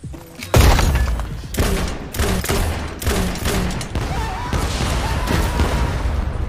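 Tank in siege mode firing in the video game Super People, heavy blasts booming in a rapid series of six or seven loud shots close by, each trailed by a rumbling echo; no talking.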